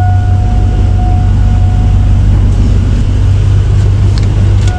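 A 2001 Chevy Silverado engine runs loud and steady with a strong low drone and a held tonal whine, just after a fuel pump replacement.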